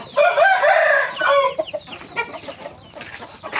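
A rooster crows loudly up close, followed by scattered clucking from several chickens nearby.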